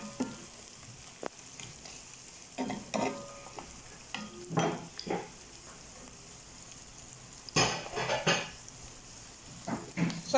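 Onions frying in warm oil for a vegetable couscous stew with tomato paste, a soft steady sizzle broken by intermittent stirring scrapes and clatters, close and fairly quiet with no talk.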